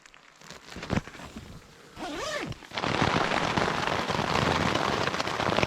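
An April rain shower comes down steadily outdoors, building from light patter into a dense, continuous hiss after a few seconds, with a short rising and falling whine partway through.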